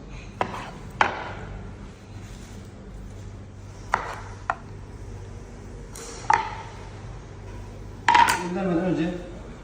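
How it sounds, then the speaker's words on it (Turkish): Tomatoes are chopped with a knife on a board while making eggplant kebab, a handful of crisp, separate knife strikes spaced irregularly against a low background hum. "Domatesi alıyoruz şöyle. Rastgele şöyle doğruyoruz arkadaşlar."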